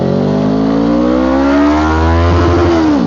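A Suzuki Inazuma 250 motorcycle accelerates hard in first gear, engine note rising steadily in pitch, loud and close, before dropping as the gear runs out.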